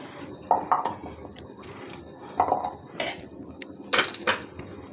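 A knife chops pumpkin into small pieces on a cutting board, with a few sharp, uneven knocks and scraping cuts close by, separated by short pauses.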